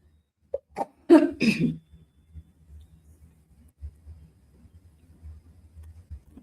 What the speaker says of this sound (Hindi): खांसी मेरी आज रुकने का नाम नहीं कर रही